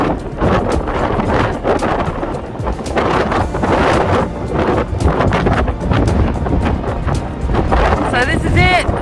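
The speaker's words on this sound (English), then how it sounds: "The wind is so strong." Strong gusting wind buffets the microphone on an exposed coastal walk near a beach at low tide, a loud continuous roar with rising and falling gusts throughout.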